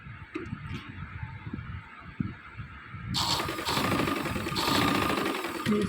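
A sewing machine stitches a panel of a kurta, a steady, close mechanical whir that becomes louder and denser partway through and then runs continuously.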